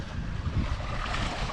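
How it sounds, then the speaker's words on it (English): North Sea waves roll onto a rocky Scottish shore in a broad, steady wash of surf, mixed with gusty wind buffeting the microphone, with nobody speaking. "The waves were rolling in it."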